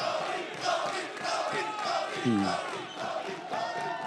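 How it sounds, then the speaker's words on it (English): Audience applause and cheering with whoops and shouts from a crowd, a steady wash of clapping rising and falling in waves for a few seconds, fairly distant. "Those applause do not go unnoticed and unappreciated."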